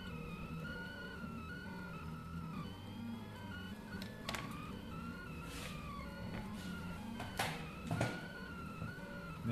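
A Delta ceramic clay 3D printer runs with a low mechanical hum and whirring motor tones, broken by a few short clicks and scrapes, faint and steady throughout.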